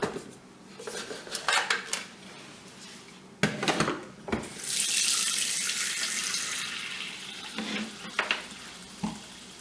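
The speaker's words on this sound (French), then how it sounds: "je vais mettre tout de suite mon bol à tremper" Kitchen sink with running tap water as a Thermomix mixing bowl is set to soak, with clattering of the bowl and utensils against the basin, a steady rush of water in the middle, then a few more clinks.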